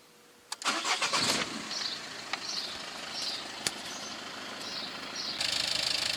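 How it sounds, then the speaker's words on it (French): A car engine is started during a cooling-system check: a brief cranking burst catches, then the engine settles into a steady, moderately loud idle with a rise in revs near the end. "Démarrer le moteur."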